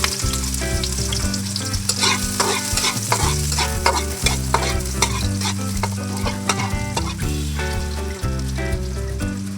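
Onions frying in used cooking oil in a pan give off a loud, continuous sizzle with repeated spatula stirring strokes, set against a steady tonal background.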